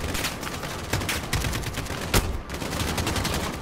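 Enemy gunfire in the Call of Duty Modern Warfare campaign: scattered sharp gunshots and short bursts crack over a continuous noisy battle backdrop, with one especially loud close shot near the middle.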